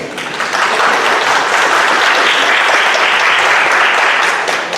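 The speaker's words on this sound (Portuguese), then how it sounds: "palmas para ele, gente" Lecture audience bursting into loud, sustained applause for a young man, a thick continuous roar of clapping that swells quickly and holds steady to the end.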